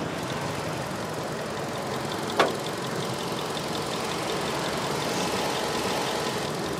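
A Hyundai Accent hatchback's 1.4 engine idles in the open engine bay with an even, continuous rumble and a faint rhythmic ticking, broken once by a brief sharp click.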